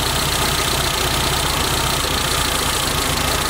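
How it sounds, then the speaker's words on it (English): A 1986 Suzuki Samurai engine idles high and steady with a loose throttle return spring, a continuous close rumble holding one level throughout, with no voices. "You see it's idling higher because this stupid spring."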